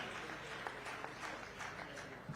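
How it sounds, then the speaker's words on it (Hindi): An audience at a fair in Jodhpur breaks into applause to welcome a guest, a faint, steady wash of clapping heard from a distance without speech. "जोरदार तालियां बजा के स्वागत और अभिनंदन"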